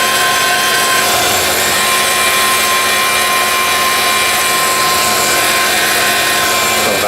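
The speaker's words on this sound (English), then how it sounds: "So that's a skim cut there." A milling machine takes a skim cut on an E39 radiator bracket, a loud continuous whine with steady tonal lines over dense broadband cutting noise, unbroken from start to finish.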